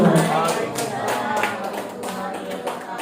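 Indoor crowd clapping at a school teachers' dissemination event, a steady broadband patter of many hands that stays fairly loud and even throughout, with some voices mixed in.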